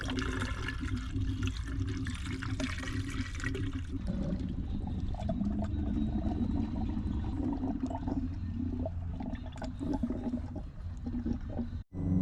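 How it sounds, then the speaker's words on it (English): Distilled water pours and gurgles steadily into the coolant system of a Mercedes CL55 with an M113K engine for several seconds, churning and bubbling, ending with a brief sharp knock. "So now it is time to fill it up with distilled water."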